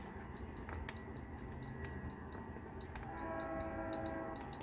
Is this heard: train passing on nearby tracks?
yes